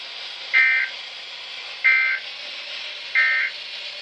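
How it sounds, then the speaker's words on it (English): A Weather Radio Canada emergency alert activation tone sounds as three identical short electronic beeps, evenly spaced over a faint steady hiss. "Ce message est destiné à tester les fonctions d'activation d'alarme des récepteurs Radio Météo."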